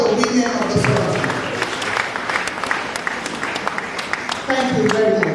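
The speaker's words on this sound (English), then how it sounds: "So let's clap for the women of the South Africa" Applause from a crowd mixes with voices talking over it, a busy, continuous clapping that stays at a fairly even level.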